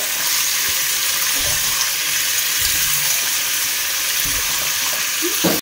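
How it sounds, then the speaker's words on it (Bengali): Chicken frying in a pan gives a steady, close sizzle, with a few soft thumps and scrapes as it is stirred. No one speaks. "এখন এটাকে সুন্দর করে একটু ভেজে নেব"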